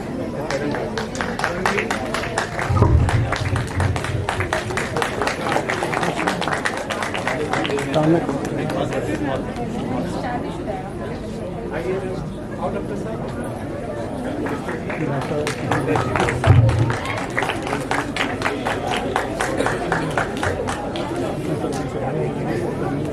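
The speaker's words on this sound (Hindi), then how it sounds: "कृपया तालियां जरूर बजाएं।" Ceremony crowd at a university event distributing assistive devices, clapping steadily for over twenty seconds, a dense patter of many hands with murmuring chatter and voices running underneath throughout.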